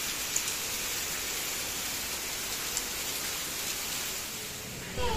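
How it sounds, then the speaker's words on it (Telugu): A heavy downpour pours steadily over hilly countryside, a dense, even hiss of rain on surfaces lasting throughout at close range, with a brief louder surge near the end. "అంత వర్షం పడుతుంది చూడండి"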